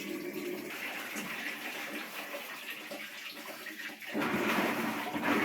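Water rushes steadily into the tub of a Maytag Whirlpool washing machine, a continuous hissing gush that shifts and grows louder near the end.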